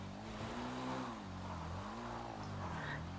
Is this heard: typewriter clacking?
no